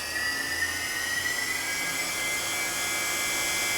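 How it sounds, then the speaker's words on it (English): Spindle of a Fadal 6030 HT CNC vertical machining center running at high speed, a steady loud high-pitched whine with a faint rising tone that continues without a break. "you can hear how nice the spindle sounds"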